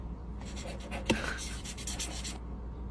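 Pen scratching steadily across paper for a couple of seconds, close and fairly quiet, with one sharp tap near the start of the strokes.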